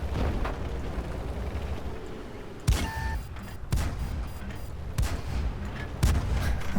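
Tank cannon fire in the World of Tanks video game, several sharp booming shots at uneven intervals over a constant rumble of engine and battlefield noise, with no talking.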